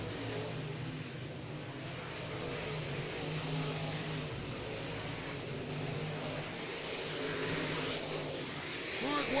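Late model race cars roaring around the dirt oval at Bubba Raceway Park, a continuous distant engine drone with rising revs, faint and blended into crowd ambience.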